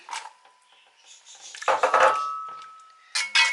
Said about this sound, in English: So I'm just going to gently stir the pumpkin in here.